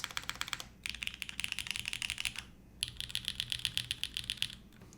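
Typing on a polycarbonate Kohaku mechanical keyboard, with two bursts of rapid, close-miked key clacks and a short pause between them. Each press sounds crisp, with some low-end thock beneath.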